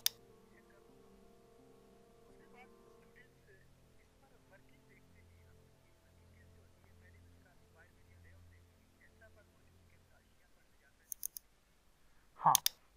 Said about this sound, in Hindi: हाँ, ये जो आपको डबल क्लिक की आवाज़ आई है